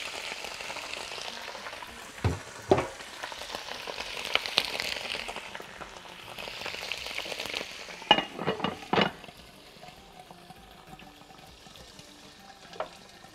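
Liver frying in very hot oil, a soft continuous sizzle with several sharper spattering crackles and pops, heard close and fairly quiet with no talking.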